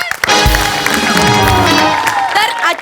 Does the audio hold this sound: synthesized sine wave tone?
no